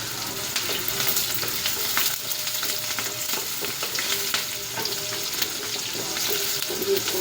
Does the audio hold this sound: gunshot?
no